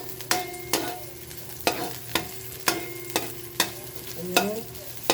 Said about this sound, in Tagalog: Nagigisa na tayo guys.